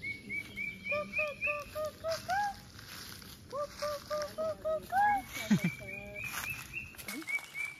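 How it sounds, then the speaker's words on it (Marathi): Birds calling in a forest at the start of the monsoon, repeated short chirps and whistles, fairly close, one call after another with brief pauses between. "पक्षी पण आरडतात."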